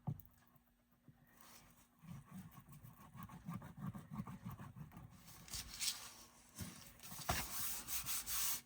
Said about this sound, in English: let me get my glue stick again, my trusty glue stick. And I'm going to get this all glued on.